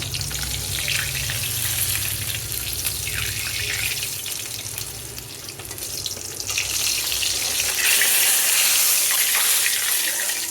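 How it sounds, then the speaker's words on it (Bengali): Koi fish from the Titas river fry in hot oil, a loud, dense, unbroken sizzle that swells briefly louder toward the end, heard close with no talking. "মাছগুলোকে উল্টিয়ে পাল্টিয়ে ভেজে নিলাম"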